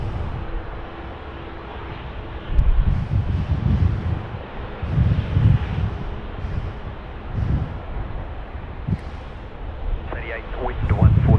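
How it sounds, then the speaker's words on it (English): A China Eastern airliner takes off from Sydney Airport, its engines giving a steady, windy roar with swelling rumbles, heard at a distance under wind noise on the microphone. "Departing is our China Eastern friends going back to mainland China"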